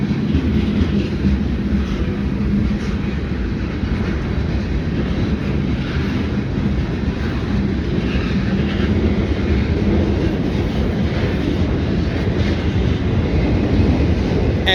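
A slow, long train rolls past nearby with a loud, steady low rumble and continuous rattling of wheels and cars that holds evenly throughout, with no talking.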